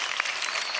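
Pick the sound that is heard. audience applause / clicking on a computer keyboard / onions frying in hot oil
audience applause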